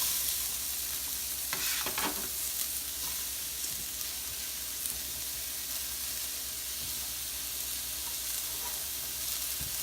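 Red peppers fry in a hot pan with an oily sizzle and hiss that runs steadily and close throughout, with a couple of brief stirring clatters early on and no talk.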